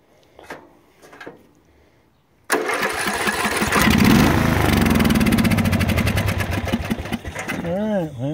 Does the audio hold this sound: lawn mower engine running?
yes